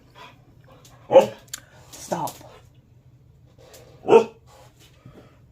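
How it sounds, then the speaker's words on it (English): A dog barks a few times in short, loud bursts, close by, with a person speaking briefly in between. "She's barking at her toy."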